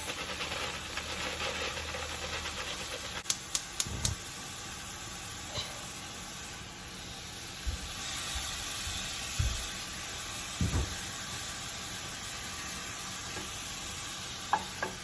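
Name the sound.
cauliflower rice added and stirred, sizzling in the pan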